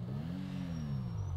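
A Golf MK7 accelerates in GTA V, its engine tone rising smoothly then easing back down over a second and a half, steady and close with no talking.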